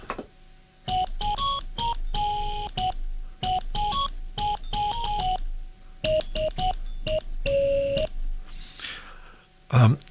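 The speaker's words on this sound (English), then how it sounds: "So that's actually a sampled antique rotary phone." Sampled antique rotary phone played as a rhythmic series of short, clear, beeping tones at changing pitches, fairly close and moderately loud, with brief gaps between phrases and a noisy burst near the end.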